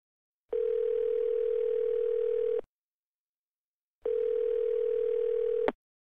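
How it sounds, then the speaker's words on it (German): A steady telephone line tone at the start of an automated phone announcement sounds in two long beeps, each roughly two seconds, with a gap between them and a short click at the end. "Sie hören eine automatische Telefonansage."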